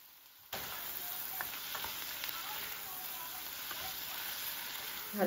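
Spices with salt and cashews fry in a pan; a sizzle starts abruptly after a brief silence and holds steady, with scattered small crackles and pops.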